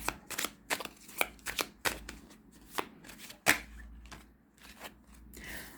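Oracle cards being shuffled by hand in a series of crisp riffling bursts and slaps, close and fairly loud, with short pauses between handfuls and no talk.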